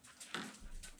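A large dog gives a brief, faint whimper, a soft whine lasting about a second.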